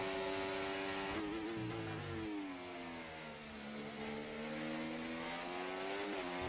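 Race car engine in the F1 24 video game, a loud continuous high-pitched whine that rises and falls through gear changes, dipping briefly mid-way before climbing again, with no talk over it.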